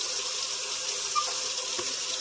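Hot water runs steadily from a kitchen tap into a stainless steel sink, a close, even hiss and gush that continues without pause and with no talking.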